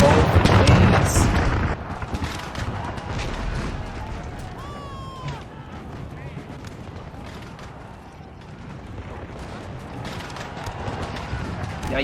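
Artillery and musket fire in a large Napoleon Total War battle, a loud rolling barrage with a heavy boom at the start followed by steady crackling volleys and distant thuds throughout.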